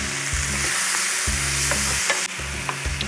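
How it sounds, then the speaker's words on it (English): Lardons sizzling and frying in a pan for a Salade Lyonnaise, a loud, close, continuous hiss with periodic scraping stirs and low thumps, no talking. "So the lardons are cooking."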